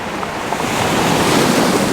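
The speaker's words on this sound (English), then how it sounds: "sometimes the waves are washing right up" Loud, steady surf roars as waves wash in, with heavy wind buffeting the microphone throughout.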